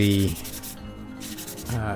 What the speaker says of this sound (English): here you can see I'm just sanding these down